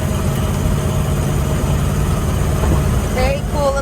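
Engine of a 1979 Jeep CJ5 rumbling steadily while being driven, a continuous low drone heard close and loud throughout, with a brief faint squeak near the end.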